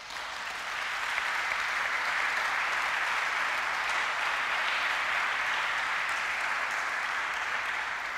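A church congregation breaks into sustained, even applause acclaiming the king of kings. The clapping swells within the first second and then holds steady and full, with no voices on top.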